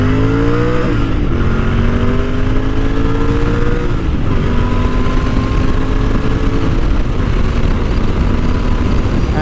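A BS6 Royal Enfield Interceptor 650 accelerates hard, its exhaust note climbing through gear changes with rising engine pitch, loud and close under heavy wind rush.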